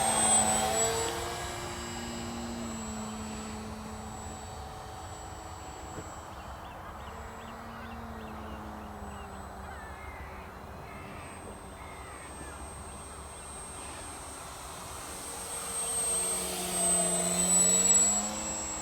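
An FMS Piper J-3 Cub V4 RC model plane flying at full power, its thin electric motor whine rising and falling in pitch as it passes. The whine grows louder near the start and again near the end.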